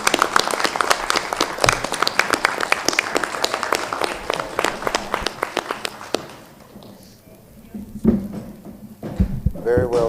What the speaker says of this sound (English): So I'm going to stand up and applaud them